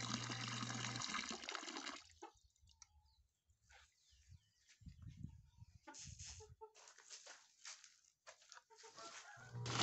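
Water poured out for animals in a chicken coop, splashing and trickling in bursts with quiet gaps, while chickens cluck softly nearby.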